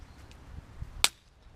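A single sharp crack of a green, wet twig snapping, brief and clear against faint background noise.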